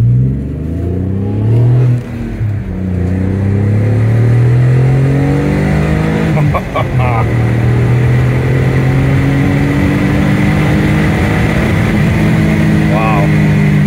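A rare car's engine revving while driving, a loud, sustained drone that rises and falls in pitch, with a short dip and gear change partway through, heard from close inside the car.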